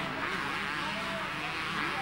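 Motocross motorcycles racing at the 1991 Motocross des Nations in Valkenswaard, a Yamaha among them, a steady distant engine drone with a faint rising whine, under crowd ambience and commentary.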